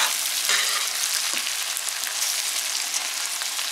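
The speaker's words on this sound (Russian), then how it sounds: "Пусть еще пока обжаривается." Steady, loud sizzling of vegetables frying in a pan, with a few soft stirring clicks and no talking.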